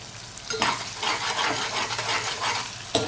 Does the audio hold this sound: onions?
yes